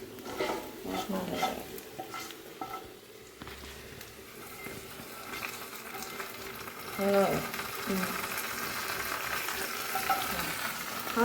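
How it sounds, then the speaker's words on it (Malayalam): Mustard seeds crackling and frying in hot oil for tempering, a steady sizzle with a stirring scrape and some faint background sounds, fairly quiet and rising slightly toward the end. "കടുക് വറുത്ത് വെച്ചു"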